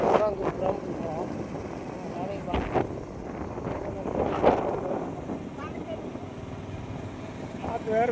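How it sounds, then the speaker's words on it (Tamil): Strong wind sweeps across a hill road in the Bargur hills near Erode. It makes gusty, rumbling buffeting that runs throughout under steady talking. "காற்று வேறு விசுவிசுன்னு அடிக்குது."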